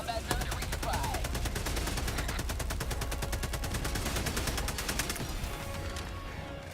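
Rapid automatic gunfire in the video game Helldivers II rattles loudly and continuously for several seconds, a dense rhythmic burst of shots with a voice briefly audible underneath.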